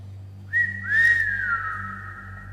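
A person whistles in an old gaol corridor: a short rising note, then a longer sustained tone that slowly glides downward and fades, fairly faint against a quiet, humming background.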